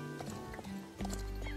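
A horse in the video game Star Stable moves into a gallop, with clip-clopping hoofbeats and a snort or whinny. The sound grows louder and fuller near the end as the gait picks up.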